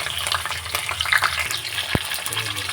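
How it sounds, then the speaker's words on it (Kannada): Green chillies and chopped onions frying in hot oil for chicken biryani, a steady crackling sizzle with occasional light stirring clatter and a brief louder pop, close and alone without talk. "ಹಸಿಮೆಣಸಿಕಾಯಿ ಮತ್ತು ಈರುಳ್ಳಿ ಹಾಕ್ಕೊಂಡಿದ್ದೀನಿ ಈರುಳ್ಳಿ ಕಂಪ್ಲೀಟ್ ಫ್ರೈ ಆಗಬೇಕು"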